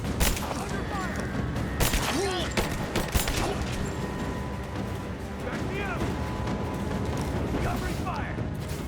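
Sustained covering fire in a video game, with sharp shots and bursts going off repeatedly over a steady roar of battle while voices talk throughout.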